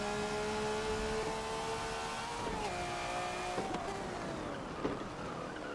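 A truck engine droning steadily while driving in Forza 7, a loud constant hum whose pitch drops in a couple of downshift steps, with faint bumps and no talking.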